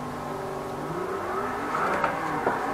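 Car engine held under light throttle while drifting, a moderate whirring rev with a slowly rising pitch and a brief swell near the end, heard alone without talk.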